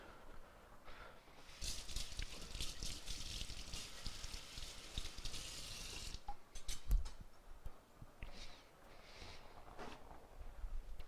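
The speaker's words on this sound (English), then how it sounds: "Can rinse off my knife." Running tap water splashes over a knife during kitchen cleanup while cooking, a steady hissing stream that fades and returns with a few faint clinks, close and moderately quiet.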